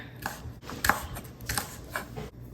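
A knife slices red chili peppers on a cutting board in a home kitchen, giving a few separate soft chopping taps spaced through a quiet moment.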